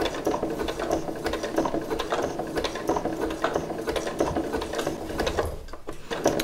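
A sewing machine stitches an appliqué leaf onto fabric, a steady rapid mechanical whirring and clicking with slight pauses and speed changes as the needle works around the shape, close and with no talking.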